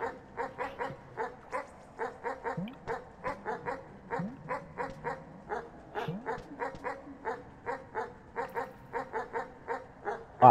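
A dog in the video game Animal Well barks in rapid repeated bursts, short sharp yips in quick clusters with brief pauses, close and steady over a low background, with a few small whining slides between barks.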